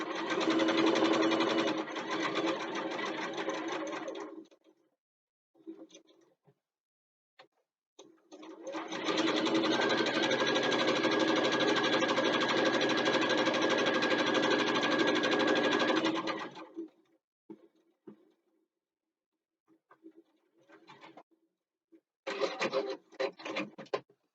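Sewing machine stitching a bookbag seam in two long, steady whirring runs separated by a pause, followed by brief stop-start bursts of stitching near the end, with a little quiet handling noise in the gaps.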